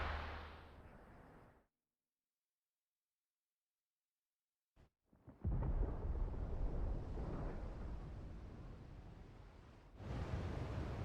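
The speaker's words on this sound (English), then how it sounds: "Sounds like thunder." Thunder in the video game Final Fantasy XVI: after a stretch of silence, a sharp crack gives way to a loud, sustained rumbling roll that fades slightly before swelling again near the end.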